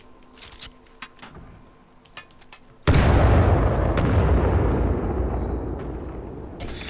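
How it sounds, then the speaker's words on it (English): Grenade exploding in Titanfall: a sudden heavy blast bursts in after a few quiet seconds of faint clicks and taps, then a loud, rumbling roar lingers and slowly fades. "That was a cool nade, I'll give him that."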